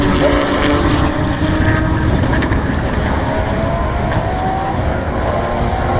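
Audi and Porsche production race cars at full speed on a circuit, a loud, continuous engine roar sweeping past with rising and falling pitch.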